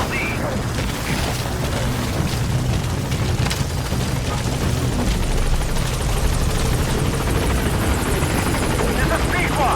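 B-Quad helicopter arriving at a landing zone in Metal Gear Solid 5, a loud continuous rotor roar with heavy low thumping and engine whine, close and unbroken, with a voice faintly under it.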